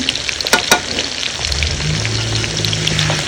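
Elephant foot yam frying in hot oil with turmeric, a steady loud sizzle and bubbling throughout with a couple of sharp clinks of a utensil early on, no talking.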